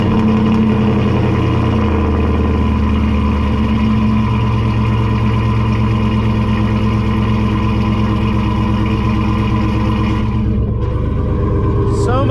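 A pickup truck engine idles loud and close with a steady deep rumble, its tone shifting slightly partway through before briefly dropping off near the end.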